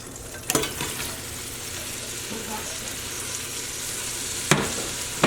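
Six cups of chopped onion sizzle steadily in a pan for French onion soup, with a sharp burst of hiss as they first hit the heat and another loud crackle a few seconds later, close by and without speech.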